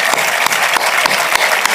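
Loud, dense applause from a crowd at a campaign rally in Camp de Tarragona, a continuous roar of clapping with occasional sharper claps standing out, heard close and alone.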